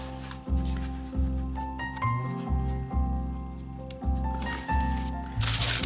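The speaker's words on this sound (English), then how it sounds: "just grab yourself a piece of wax paper," A sheet of wax paper is handled while working in a watercolor art journal: crinkling, rustling crackles come in irregular bursts over a low steady background hum, close and fairly loud.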